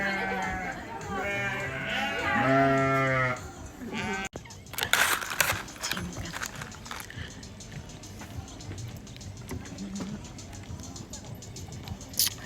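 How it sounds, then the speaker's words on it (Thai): Sheep at a farm in Thailand bleat loudly and close in a wavering cry, followed by rustling and shuffling movement while someone talks. "น้องแกะน่ารักมาก"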